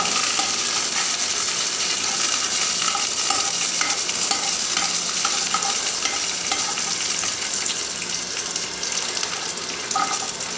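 Spices sizzle and crackle in hot oil for vatha kuzhambu, a loud, continuous frying hiss with small pops and scattered clinks from stirring, no voices.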